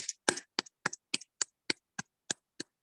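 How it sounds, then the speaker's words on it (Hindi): Single person clapping during an online session: about ten crisp, evenly spaced claps in a steady rhythm, close to the microphone, with silence between them. "विमला जी के लिए एक जोरदार तालियां होनी चाहिए।"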